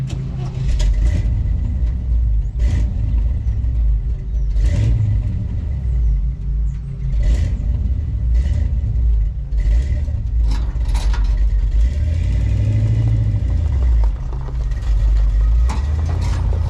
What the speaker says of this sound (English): I'm gonna move this truck.